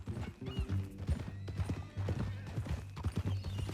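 Hooves clip-clop in a steady trot while a horse whinnies loudly nearby, with a soft snort between steps, in the video game Red Dead Redemption 2.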